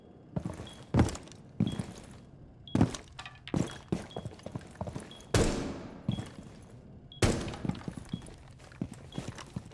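Gunfire in Rainbow Six Siege, with shots fired at the same moment as a drop or vault. Loud, sharp bursts and single shots come at irregular intervals, mixed with thuds and rattling movement, and no one talks.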